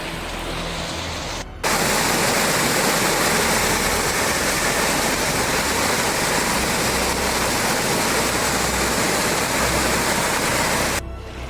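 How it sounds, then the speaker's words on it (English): A big mountain waterfall along a hiking trail roars as a loud, steady broadband rush that fills the whole clip, cutting in abruptly after a quieter opening and holding constant until near the end. "There's a pretty big waterfall."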